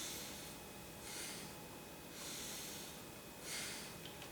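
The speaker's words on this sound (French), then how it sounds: "on insiste sur le souffle en respirant par le nez, on souffle par le nez, un peu plus" Forceful exhalations through the nose during yoga breathing practice, three soft, drawn-out puffs of breath spaced about a second apart, close and quiet.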